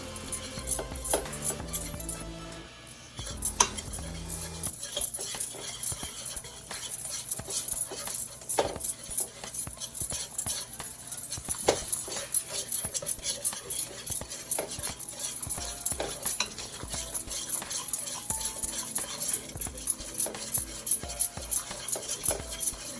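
A flour mixture for gumbo is stirred in a pot, producing repeated scraping, clinking and knocking of a utensil against metal, close and irregular, continuing steadily with brief pauses.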